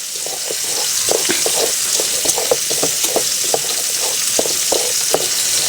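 Cauliflower fries in hot oil in a home kitchen, giving a loud, steady sizzle with frequent small pops and crackles spread across the whole stretch, close up and without any talking.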